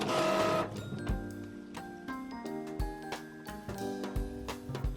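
A printer printing a sticker sheet whirs and clicks, its motor stepping in uneven mechanical pulses and rhythmic ticks, making an odd noise, close by with no talking.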